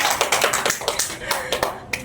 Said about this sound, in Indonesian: ayo kasih tepuk tangan dulu dong teman-teman